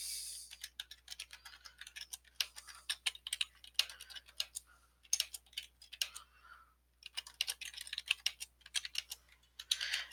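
Keys tapping on a computer keyboard, bursts of quick close clicks separated by short pauses, quiet and alone.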